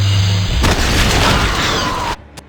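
A satchel charge detonates in the Doom 2 mod Aliens: Eradication, a single loud, close boom with a rumbling tail that cuts off abruptly, followed by a faint pop.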